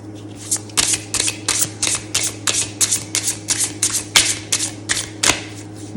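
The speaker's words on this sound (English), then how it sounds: "Good hard shuffle." Tarot cards are shuffled hard and close up in a fast, rhythmic run of sharp riffling snaps, about a dozen quick bursts in a row.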